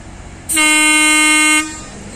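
A KRDE diesel railcar sounds its horn at a small station, a single loud, sustained tonal blast lasting about a second, heard alone with nothing else over it.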